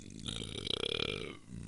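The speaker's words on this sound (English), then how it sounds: "Followed by that beautiful burp from the noobs" A long, loud, rumbling burp fills the moment on a beer podcast, close to the microphone, with a rough fluttering texture that swells and then fades.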